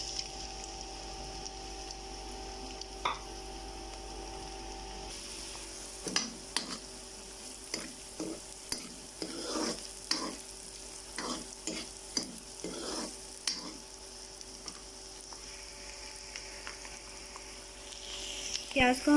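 Onions frying in oil in a kadhai, a soft steady sizzle with repeated stirring scrapes and clatters of a spoon against the pan, close by.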